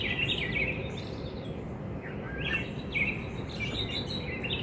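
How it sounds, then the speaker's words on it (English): A bird perched on an overhead power line chirps in short, scattered bursts at moderate distance over a steady outdoor background rumble. "I got a bird over there staring at me on the power line."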